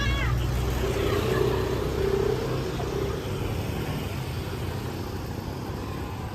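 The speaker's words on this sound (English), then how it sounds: "So noisy. I mean, with the cars, motorbike around here" Street traffic in Legian's Garlic Lane, Bali, rumbles steadily nearby, cars and motorbike engines droning and passing with a constant noisy background wash.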